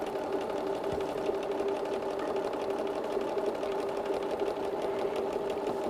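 A sewing machine stitches fabric with clear thread on a quilted table runner, a steady continuous whirring hum with a rapid rhythmic needle clatter running throughout, close and even in level, with no talking.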